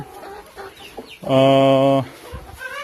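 Chickens on a poultry farm cluck and chatter close by, broken up by one loud, sustained squawk lasting under a second, with a voice speaking briefly.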